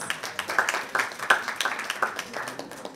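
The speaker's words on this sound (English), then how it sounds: "Huge round of applause." A modest round of applause with distinct individual claps, scattered and lively at first, then gradually thinning out.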